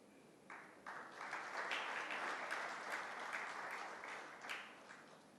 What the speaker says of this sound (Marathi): एकदा जोरदार टाळ्या झाल्या पाहिजे.